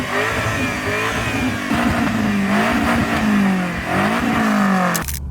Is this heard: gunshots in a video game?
no